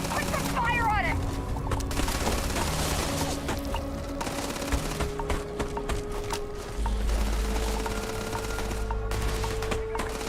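Dense rapid gunfire in the Starfield video game, continuous bursts and booms layered over steady game music with voices in the mix.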